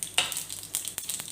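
Mustard seeds and urad dal fry in hot oil for kara kozhukattai, a close, short burst of crackling sizzle with a few sharp pops.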